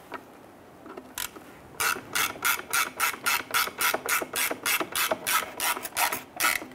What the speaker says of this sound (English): Now let's go ahead and install our anchoring screws.